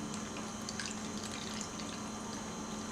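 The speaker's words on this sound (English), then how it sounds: "I'm just going to fill and dump 5 times with water" Water filling and being dumped from a film developing tank during the rinse step, a steady trickling, dripping wash of liquid at close range with no voices.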